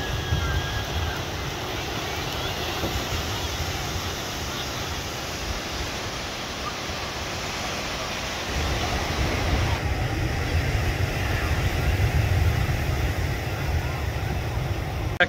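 Steady surf rolls onto the beach at Foz do Lizandro in Ericeira, Portugal, a continuous broadband wash of breaking waves that swells slightly louder partway through, with no voices heard.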